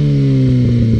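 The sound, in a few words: Kawasaki ZX6R motorcycle with Two Brothers exhaust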